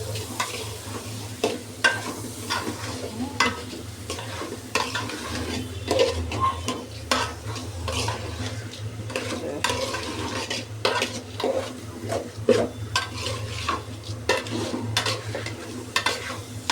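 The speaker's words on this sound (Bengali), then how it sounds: "এখন এটাকে ভালো করে কষিয়ে নেব" Red deshi aman rice stir-fried in a pot for khichuri, with steady sizzling under repeated rhythmic scrapes and clinks of a spoon against the pot.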